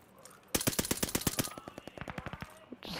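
Rapid automatic gunfire in the video game Call of Duty Vanguard, a loud close burst of many rounds in quick succession that slows into a few scattered shots, with a voice faintly underneath.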